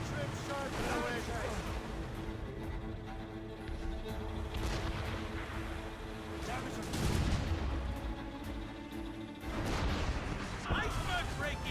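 A volley of ship's guns booms at sea, with heavy overlapping blasts over a rushing wash of waves and wind on a sailing vessel, loud and dense throughout the scene.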